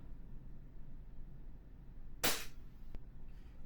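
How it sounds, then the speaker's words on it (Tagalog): A WE Glock 17 Gen 5 airsoft pistol fires one sharp, loud crack against a quiet background, then a faint click follows shortly after. "Ayan, nakakailang putok na tayo dito."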